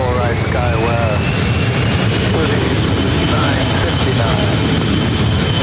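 A jet airliner roars loudly and continuously as it takes off from runway 24 right at LAX, its engine noise filling the air with a steady rushing whine while a voice talks over it.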